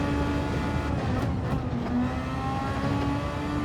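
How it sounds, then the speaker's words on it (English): An F1 race car engine in the video game Gran Turismo 7 whines at high, steady pitch, droning continuously and loudly as it holds speed, with slight shifts in tone. "the sound of the F1 car"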